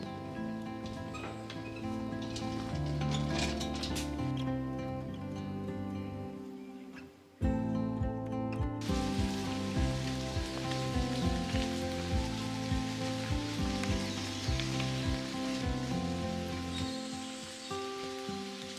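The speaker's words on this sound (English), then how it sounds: "it has been raining for the last 4 hours straight" Steady rain patters on a surface at a cabin construction site without a break, dense and close, with a brief dip in loudness about midway through.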